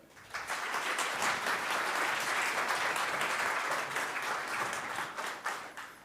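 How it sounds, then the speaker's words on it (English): A conference crowd at PyCon AU 2025 applauds to welcome a speaker to the stage, dense sustained clapping from many hands that swells quickly, holds for several seconds, then tapers. "Can I have a warm round of welcoming applause for Dilpreet?"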